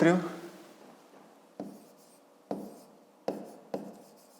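A pen writes on paper in a quiet room, opening with a short rub and then four sharp taps or strokes spaced roughly a second apart, close and faint.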